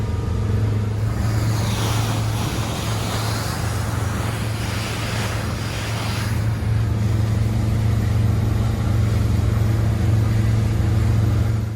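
A Yanmar 240HP diesel shaft-drive engine on a Viki 32 flybridge cruiser at full throttle, around 3,400 RPM: a steady, loud drone with a strong low hum and a broad roar that swells and eases slightly.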